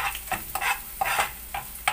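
Garlic cooking in butter in a pan, a sizzling hiss broken by several sharp scraping stirs of a utensil against the pan at an uneven rhythm, close and clear without talking.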